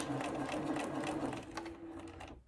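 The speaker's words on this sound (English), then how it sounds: "I'm just going to sew along the edge. I'm going to sew a couple stitches" A sewing machine runs a short burst of stitches along the edge of a fabric mask, a close, rapid mechanical whirring with a humming motor tone that slows and stops abruptly near the end.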